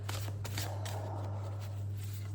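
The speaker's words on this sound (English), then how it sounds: "I'm going to pull one of these cards" Joyful Abundance oracle cards shuffled and drawn from the deck: soft papery riffles and light slaps come in short bursts over a steady low hum, with no one talking.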